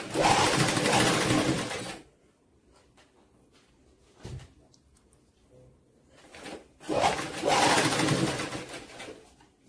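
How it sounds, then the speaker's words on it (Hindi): Sewing machine stitching a kids' frock, two loud running bursts at the start and end separated by a quiet gap with small clicks and handling sounds. "ऊपर से एक सिलाई मार लेना,"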